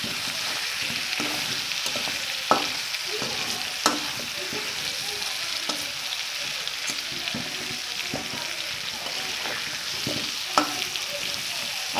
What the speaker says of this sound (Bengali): তো আমি হচ্ছে একই কড়াইতে হচ্ছে ভেজে নিচ্ছি।